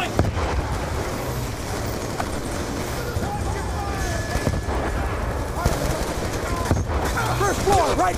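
Bursts of machine gun fire rattle through a battle scene in Call of Duty Black Ops 2, mixed into a dense, steady wash of gunfire and noise, with voices heard among the shooting.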